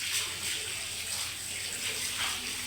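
Water running steadily from a tap for a bath, a soft continuous hiss and gush at low volume with no speech.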